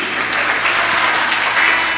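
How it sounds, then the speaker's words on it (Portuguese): A church congregation bursts into loud, dense applause, a steady wash of many hands clapping at once with nothing else standing out. "Dê uma salva de palmas para Jesus"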